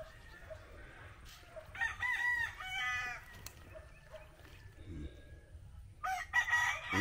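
A young, late-born rooster crows from below in a ranging yard, with a couple of strained crow bursts standing out over steady background noise and faint chatter.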